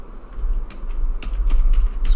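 Fingers tap out an app's unique name on a computer keyboard in quick, uneven bursts of clicks, heard up close over a low hum.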